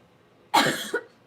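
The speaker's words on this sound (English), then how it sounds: "I'm gonna get a drink real quick so I stop coughing at you" A single sharp cough, close and fairly loud, with a short second burst right after, against quiet room tone.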